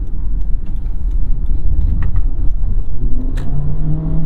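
A 2023 Honda HR-V drives through turns, heard from inside as a steady low road and engine rumble with occasional small rattles and a faint rising tone near the end; no one speaks.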